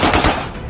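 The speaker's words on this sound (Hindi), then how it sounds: "सोशल मीडिया पर जश्न का वीडियो सामने आया जिसमें सड़कों पर लोग गोलियां बरसा रहे हैं।" Celebratory gunfire in the streets of Syria, a rapid burst of loud, close automatic shots fired in quick succession, sharp and dense for under a second.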